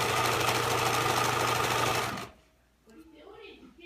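Domestic sewing machine stitching forward and back across a fabric drawstring bag, a steady close mechanical whir with rapid needle pulses for about two seconds, then stopping abruptly into quiet room tone.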